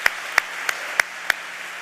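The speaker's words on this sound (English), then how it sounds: "clap for them, for his team." Five sharp handclaps ring out at an even, unhurried pace in a quiet lecture hall as an audience applauds a team, each clap distinct and separated by silence, with no crowd roar behind them.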